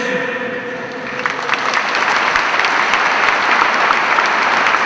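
Applause from a church prayer-meeting audience, a dense steady wash of many hands clapping that swells slightly after the first second and continues at full strength throughout.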